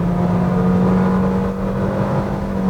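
A Chevrolet Onix Plus Premier or Nissan Versa Exclusive car pulls away from 60 km/h at full throttle, a loud steady engine drone heard from inside the cabin that holds at a high pitch.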